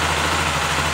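A 2018 Honda XRE 300 motorcycle with an engine fault runs steadily up close, its loud, continuous idle carrying a rough, rattling mechanical noise and no voices.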